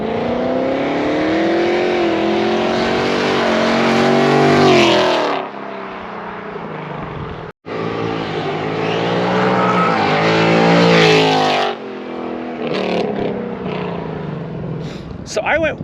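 Car fitted with E85 headers and exhaust, its engine running loud and close with a rough, droning tone that swells and fades, briefly cuts out and then returns, with people talking over it now and then.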